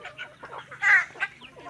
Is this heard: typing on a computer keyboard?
no